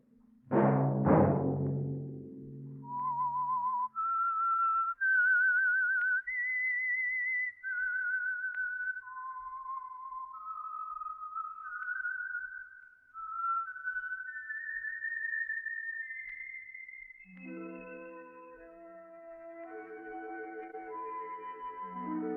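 A lone person whistles a slow, wandering signal tune opening a 1947 radio drama, clear and close, note by note, before orchestral music swells in underneath.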